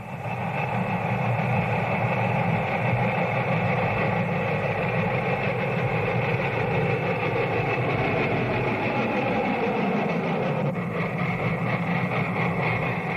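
Union Pacific Big Boy steam locomotive running, a steady deep rumbling roar with continuous hiss and mechanical drone held at an even loudness throughout, with no voices.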